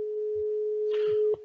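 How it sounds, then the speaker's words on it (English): Spanish dial tone on a Skype for Business call to Spain, a steady single-pitch tone holding throughout, loud and clear, with a faint rustle near the end as it cuts off. "that's the Spanish dial tone because we're actually calling Spain"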